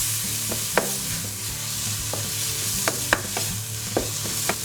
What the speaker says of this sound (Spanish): Tostamos ligeramente y lo mezclamos todo.